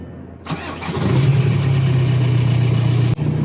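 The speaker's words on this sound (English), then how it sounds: "Inside the vehicle, we're gonna start it up." A 1999–2003 VW TDI ALH diesel engine cranks briefly and catches, then settles into a steady, close, loud idle with a low droning hum and a brief dip near the end.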